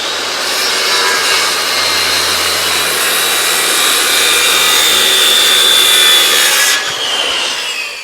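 A hand saw cuts through wood timber for a cupola, giving close, continuous rasping strokes that hold steady for the whole stretch, with no voices over it.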